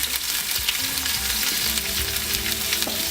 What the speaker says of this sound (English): I'm adding the onions and some salt to taste.